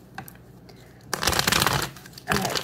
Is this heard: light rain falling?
no